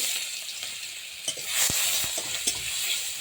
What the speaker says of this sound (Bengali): রসুনটা একটু লাল লাল ভাজা ভাজা হবে